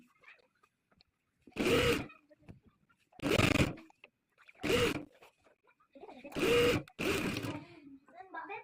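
A sewing machine stitches lace onto fabric in five short, whirring bursts of about half a second, separated by quiet pauses as the material is adjusted.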